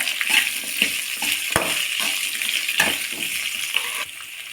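Chopped onion sautéing in a pan for kadamba chutney, a steady broad sizzle punctuated by a few sharp scraping stir strokes, close and moderately loud with no talking.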